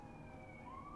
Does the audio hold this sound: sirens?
yes